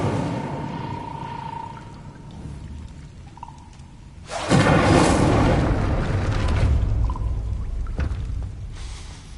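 A fire spell cast in the Hogwarts Legacy video game bursts in as a sudden loud whooshing roar midway, following a quieter ambient stretch with faint tones, then sustains as a broad crackling rush to the end.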